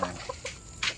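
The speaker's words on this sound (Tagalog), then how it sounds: "Ayan, mga alaga nating manok." A few short clucks from chickens close by, in quick irregular bursts over a faint background.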